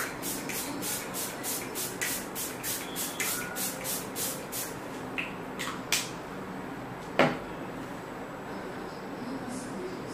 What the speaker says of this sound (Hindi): लास्ट में अगेन हम यूज करेंगे फॉरएवर 52 का जो फिक्सिंग स्प्रे है वो।